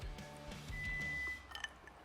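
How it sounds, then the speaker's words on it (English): A kitchen timer in a home kitchen during sushi making gives a steady electronic beep tone lasting about half a second, sounding moderately loud over low room noise, followed by a few faint clicks. "Can I just turn off this timer?"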